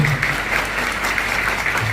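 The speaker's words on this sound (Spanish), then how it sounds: "Si les damos un aplauso" At an obstetricians' association congress in Paraguay, the audience gives a short burst of steady, dense clapping that continues evenly without pause, with no talk over it.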